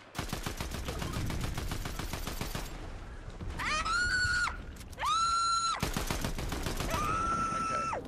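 Rapid automatic gunfire in a Fortnite match, dense bursts of shots up close, followed by loud sustained tonal in-game effects that cut in and out, with no talking.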